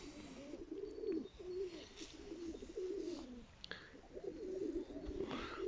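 Pigeons coo in a steady, repeated series of low throaty calls close by, with a faint higher chirp or two and a soft background hum.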